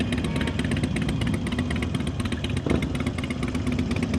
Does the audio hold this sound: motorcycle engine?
yes